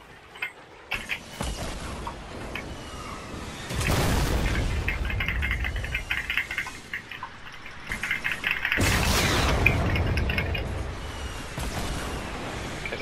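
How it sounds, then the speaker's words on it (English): Two heavy, booming rocket blasts in the video game Fortnite, one after the other, each a loud burst that rolls on with a rumbling tail over steady game ambience. "Hey, they got rockets coming towards us?"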